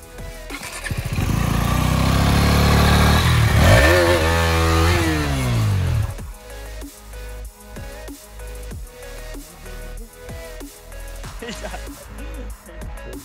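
A KTM Duke 250 motorcycle roars loud and close during off-road riding, its engine straining at high revs for several seconds before dropping to a rough, uneven idle as someone talks over it.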